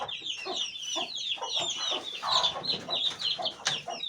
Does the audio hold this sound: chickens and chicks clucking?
yes